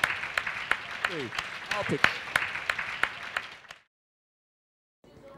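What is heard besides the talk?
audience applause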